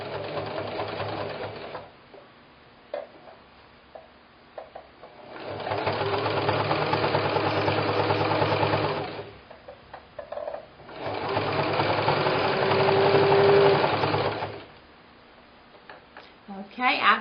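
A sewing machine stitches quilt binding in two sustained runs of steady, rapid mechanical whirring, each several seconds long, separated by pauses filled with light handling clicks; close and moderately loud.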